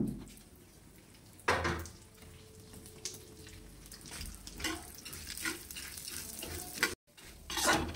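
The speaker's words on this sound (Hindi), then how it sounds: "फिर से हम इसमें तेल डालेंगे और अपना मसाला भूनेंगे।" Masala spices frying in hot oil in a pan, a steady close sizzle with occasional louder stirring scrapes and brief pauses, no talking.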